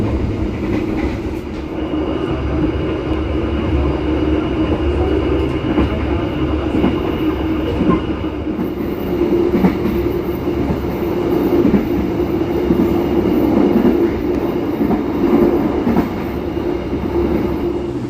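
The Logawa passenger train rolls along the rails in Indonesia, a loud, steady rumble with rattling and faint clickety-clack heard from inside the carriage, with no talking.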